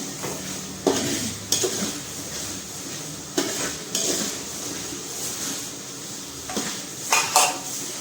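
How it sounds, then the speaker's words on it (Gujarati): Green peas tipped into a pan of pav bhaji and stirred, with a steady sizzle under repeated scraping clinks of a spoon against the metal pan, close up and without talk. "અહીંયા વટાણા લીધા છે એ પણ નાખી દઈશું આપણે સરસ મજાનું સાતરશું એને"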